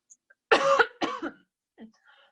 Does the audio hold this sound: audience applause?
no